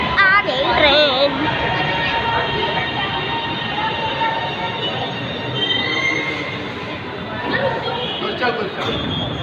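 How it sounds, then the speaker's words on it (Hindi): A train pulls into a platform with loud rolling rumble and high squealing wheels, heard close in an echoing station with crowd noise in the background. "The train is arriving."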